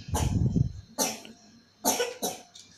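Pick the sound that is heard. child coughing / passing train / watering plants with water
child coughing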